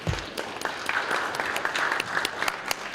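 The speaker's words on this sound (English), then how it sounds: "let's thank them, let's give them a round of applause" Applause for youth parliament members at a Free State Youth Parliament session fills the room, a dense steady clapping from a seated crowd that runs throughout at moderate volume.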